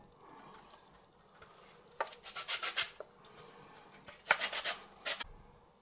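Lime being zested on a grater, two clusters of short rasping strokes, close and crisp, over a quiet background.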